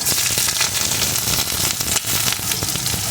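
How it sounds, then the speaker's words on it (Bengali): Chopped onion hits hot oil in a wok and sizzles loudly and continuously, with dense crackling and spitting throughout. "এখন এই তেলের ভিতরে দিয়ে দেব একটা পেঁয়াজ কুচি"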